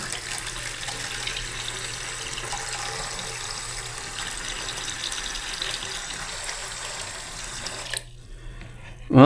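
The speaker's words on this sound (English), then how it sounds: "I think we have a working faucet" A newly installed bathroom faucet runs steadily in a close, continuous stream of water for about eight seconds, then cuts off abruptly, leaving a brief moment of quiet.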